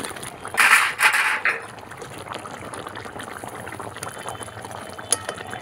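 Cabbage dhoka cakes bubble and simmer in a cashew paste gravy, with a louder burst of bubbling early on that settles into a steady, soft simmer.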